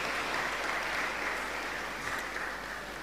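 An audience at a 75th-anniversary village church festival of the Sacred Heart of Jesus claps steadily, a dense continuous wash of many hands at moderate distance without talk.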